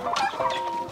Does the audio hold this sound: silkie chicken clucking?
yes